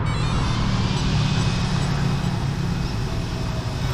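An Arrma Typhon 4s RC car geared 34/29 makes a speed run, a loud, continuous close-up motor whine and rushing roar holding steady for the whole stretch.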